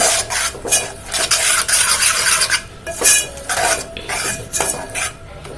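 A spoon stirring hot tempering into mango pickle, repeated scraping and clinking of metal against the vessel in uneven bursts, close and loud, with short pauses between strokes and no voices.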